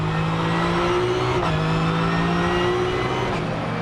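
Supercar Challenge race cars roar along the Zandvoort circuit in the Netherlands, their engines loud and sustained, with pitch shifts as they change gear and pass one another close by.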